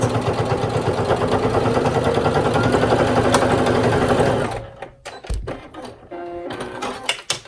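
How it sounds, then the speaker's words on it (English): A sewing machine top-stitching about an eighth of an inch along a zipper bag runs in a fast, even loud whir for several seconds, then stops, leaving soft handling clicks and rustles of fabric. "I'm going to do about 1/8 of an inch top stitch across"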